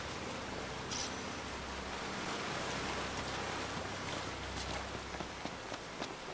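A waterfall in Final Fantasy XV gives off a broad, steady rushing roar of falling water that stays even and fills the whole scene, with faint clicks and small game sounds above it.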